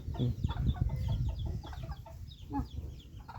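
Chickens clucking close by with a rooster among them, several short squawks and calls over a steady low rural hum with no talking.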